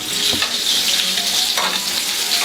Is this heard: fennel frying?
yes